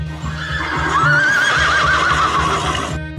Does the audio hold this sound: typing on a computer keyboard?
no